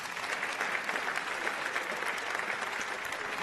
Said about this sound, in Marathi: त्याच्यासाठी खरंच जोरदार टाळ्या व्हायलाच पाहिजे